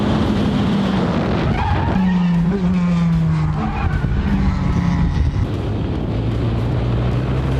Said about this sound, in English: He ended up spinning the car right in the most dangerous part of the track.